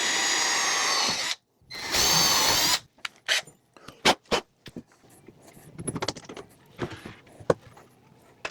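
A power drill drives bolts with washers down to mount a press in a home bow shop, two loud whirring bursts up close followed by scattered clicks, clanks and handling noises.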